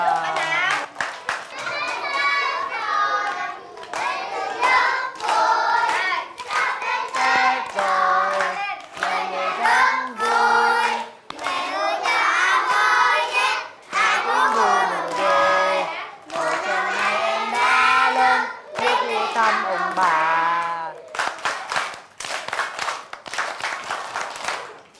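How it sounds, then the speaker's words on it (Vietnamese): A school class of children claps hands in welcome for a newcomer, scattered applause mixed with lively children's chatter and voices throughout. "Đề nghị cả lớp vỗ tay đón chào bạn Hấp."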